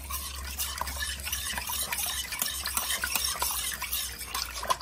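Salted lemons being stirred for pickling, with a steady close scraping and rustling texture of continuous stirring against a low background hum.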